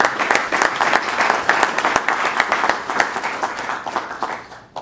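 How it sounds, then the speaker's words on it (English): Crowd applause at a Utah County Republican debate for the District 48 candidates: a full, sustained round of many people clapping, fairly close and even, thinning slightly toward the end. "these candidates deserve a big round of applause"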